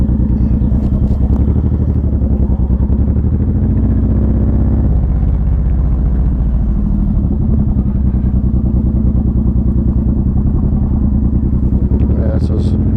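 A Honda VTX1800 cruiser motorcycle under way, its deep engine rumble and wind noise loud and steady throughout with no break.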